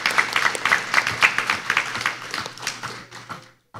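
An audience claps for a finalist student team at the final of a legal competition, a dense round of hand claps that thins out and stops near the end.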